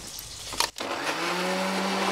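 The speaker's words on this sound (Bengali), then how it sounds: "আর একটু মিক্সিতে ঘুরিয়ে নেব।" A mixer grinder whirs into a steady, loud, high-pitched whine as it grinds raw tamarind with a little water into a paste, after a brief clatter at the start.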